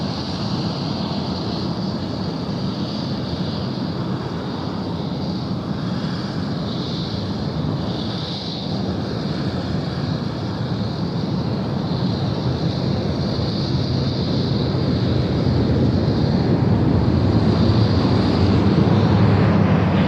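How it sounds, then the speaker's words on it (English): A Thai Airways A350 jet lands on runway 16 right at Sydney Airport at night. A loud, sustained engine roar and rushing whine holds steady for twenty seconds with wind buffeting the microphone. "We've got Thai Airways now to 350 on finals, runway 16 right."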